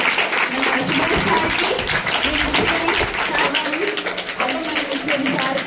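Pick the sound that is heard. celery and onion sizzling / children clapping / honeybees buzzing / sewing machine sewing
children clapping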